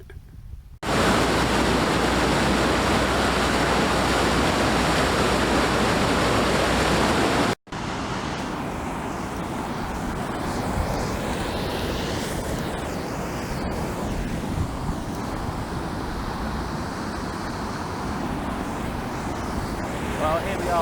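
Floodwater of the River Ouse rushes past Barcombe Mills in a continuous loud roar, broken by a short cut, then resumes slightly softer with some wind buffeting the microphone.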